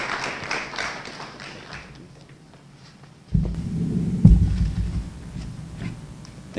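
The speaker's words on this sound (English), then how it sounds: "Audience, please help me give a round applause for Dr. Patrick Whitehead." An audience at a university research symposium claps for a speaker, the applause fading from a light patter to silence before a low, rumbling room noise takes over.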